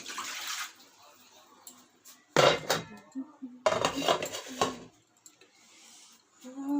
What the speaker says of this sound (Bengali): এটা এখন আমি নিয়েছি তো এটা আমি এখন ঢাকা দিয়ে রাখবো